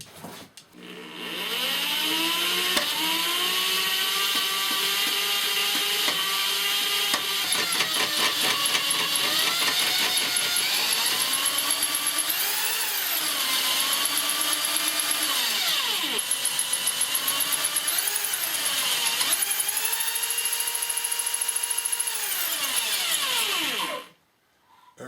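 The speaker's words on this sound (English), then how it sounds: "put our drill in reverse, because in order to cut we have to do it in the other direction" A drill running in reverse while line boring, with a loud, steady motor whine whose pitch dips and rises as the cut loads it, then stops abruptly at the end.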